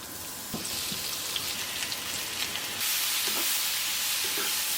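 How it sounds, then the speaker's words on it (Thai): Zucchini stir-frying in a pan, a steady broadband sizzle with scattered clicks of stirring that swells louder and denser partway through, no voices. "ต่อไปผมจะผัดฟักทองหยาวครับ"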